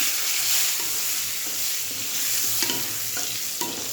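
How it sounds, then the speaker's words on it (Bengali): A potato fries with cumin seeds in oil left over from frying fish, sizzling continuously and close up, broken by a few spatula scrapes toward the end. "এই মাছের তেলই রয়েছে, দেখো মাছের তেলেই তেল ভাজা হচ্ছে।"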